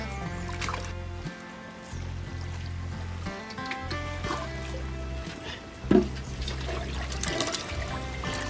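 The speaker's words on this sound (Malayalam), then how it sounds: "അപ്പോൾ ആദ്യം തന്നെ ബീഫ് കഴുകാണ്. ബീഫ് കഴുകാൻ വേണ്ടി എടുത്തിട്ടുണ്ട്." Raw beef being washed in water for a biryani cooked outdoors: continuous sloshing, pouring and trickling with a few louder splashes, under steady background music.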